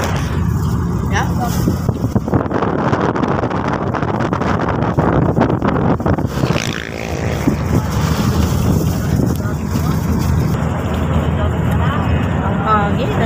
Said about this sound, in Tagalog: Ang hangin, ang sarap.